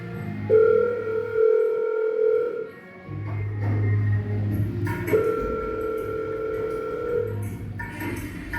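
A phone call goes through on a handset, with steady electronic ringback tones in two long bursts separated by a short pause, clear and close over a faint low hum.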